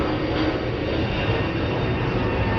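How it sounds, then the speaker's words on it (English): An airplane passes overhead outdoors, heard as a steady, broad engine roar that holds at an even, fairly loud level throughout, with no speech over it. "Let's wait for that airplane."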